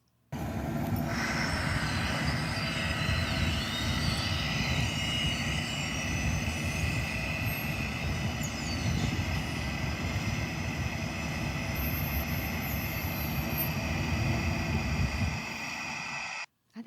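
A steady engine rumble runs throughout from Public Works landscaping equipment in a city park. The drone is loud and constant, with a faint higher whine layered on top, and it cuts off near the end.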